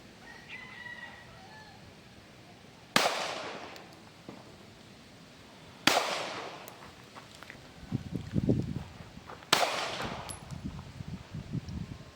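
Three sharp, loud 9mm pistol shots ring out at an evenly spaced interval at an outdoor shooting range, each with a brief ringing tail, and faint background sounds sit between them.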